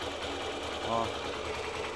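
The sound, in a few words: Hero Xpulse 200 motorcycle engine noise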